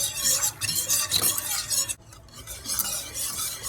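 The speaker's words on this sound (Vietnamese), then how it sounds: "Mình khuấy cho nó sánh lại vậy nè" A 30 g starch and water mixture stirred steadily in a pan as it thickens, with continuous close scraping and swishing of a utensil against the pan and a brief pause midway.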